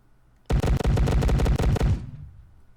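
Rapid automatic gunfire from a first-person shooter game built in Unity: a loud burst of about a dozen evenly spaced shots lasting around a second and a half, then a short tail, no voices.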